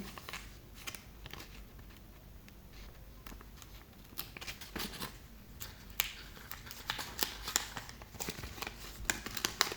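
Paper surprise packet being opened by hand, soft crinkling and rustling of paper with scattered sharp tearing and tapping clicks that grow busier and louder toward the end, close up with no talking.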